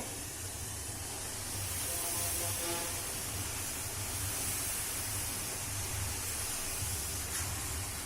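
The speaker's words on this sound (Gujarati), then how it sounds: "આપણે આ લિક્વિડ નાઇટ્રોજન લીધું છે, તેને આપણે બિસ્કિટ ઉપર નાખી દેવાનું છે" Liquid nitrogen poured over homemade biscuits to make smoke biscuits gives off a steady, broad hiss, like escaping steam, with a low rumbling churn beneath it. The sound stays even and fairly loud for the whole stretch, with no talking.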